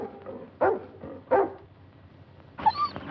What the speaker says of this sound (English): Keep a tight grip on that dog